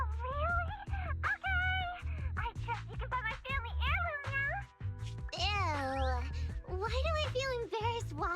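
A character in the video game Zenless Zone Zero speaks in a sing-song voice, repeatedly imitating a cat's meow between words over a steady game music background.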